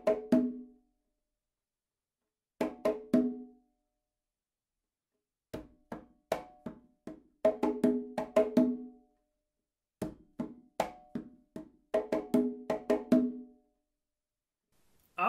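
A conga plays a repeating pattern of open tones, slaps and light ghost taps in short bursts separated by brief silences, a push figure from a salsa tune. The hits are close and crisp and sound alone, with no talk.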